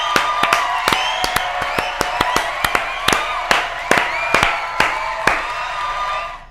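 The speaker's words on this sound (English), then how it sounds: "So I got to give her a round of applause." An audience claps and cheers in a busy crowded space, a dense roar of voices and whoops punctuated by sharp, loud claps scattered irregularly throughout, fairly close and energetic.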